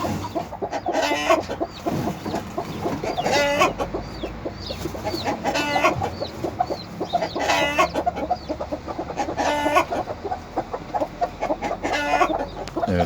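Chickens cluck steadily nearby while a rooster crows in repeated bursts outside, loud and close, over a busy farmyard background with Denizli chicks.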